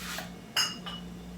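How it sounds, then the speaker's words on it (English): Hot glass canning jars being lifted out of an oven, clinking together in one sharp, bright clink followed by a fainter second touch, close by over a low steady hum. "Gotta get a couple jars out of the oven."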